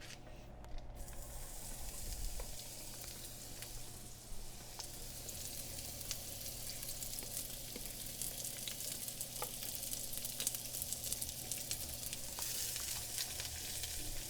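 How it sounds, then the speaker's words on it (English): Garlic and onion sizzle steadily in fat in a hot pan, with large garlic pieces, a continuous close frying hiss with small pops throughout and no talking. "Good sizzle sounds."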